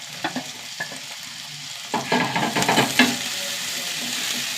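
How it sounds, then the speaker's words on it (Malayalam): Small onions, crushed garlic, dried red chilies and green chilies fry in a pan, a steady sizzle under repeated scraping stirs that grow busier and louder midway, with no voices. "ഉള്ളി നന്നായി മൂത്ത് വരട്ടെ."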